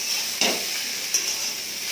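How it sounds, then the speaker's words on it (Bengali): Potato, drumstick and other mixed vegetables fry over high gas in a pan, giving a steady close hiss broken by two brief scraping stirs, with no voices. "এগুলোও খানিকক্ষণ একটু ভালো করে ভেজে নেব"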